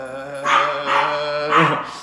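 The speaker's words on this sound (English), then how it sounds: "Stop barking. Bloody hell, that dog's loud." A guard dog barks loudly and close by, three harsh barks in quick succession, heard on its own.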